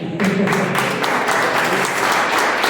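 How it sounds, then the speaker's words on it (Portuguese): A congregation in church breaks into loud, sustained applause, a thick continuous wash of many hands clapping close by with little change in level. "Aplaudam mais Jesus"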